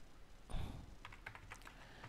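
Typing on a computer keyboard while writing an email in Outlook, with quick light key clicks in a short burst, close and fairly quiet, no voice.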